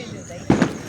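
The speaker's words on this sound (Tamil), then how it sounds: "பாராடைஸ் அடிக்கிற வெடியை பாருங்க." A single sharp Paradise brand firecracker bang goes off midway, close and loud, followed by a quick crackling echo.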